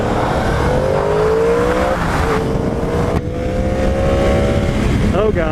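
A 2015 Yamaha R1M motorcycle pulls away hard from a green light. The engine revs rise steadily in pitch through the gears, close up and loud, with steady wind rush throughout.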